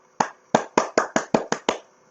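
Hands clap eight times in an even, slightly quickening rhythm at a playgroup, crisp and close, each clap standing alone with short silences between.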